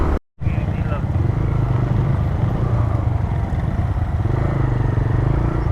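Motorcycle climbing a mountain road near Chimbuk hill in Bandarban, its engine droning loud and steady close by under wind rumble, with a brief dropout near the start.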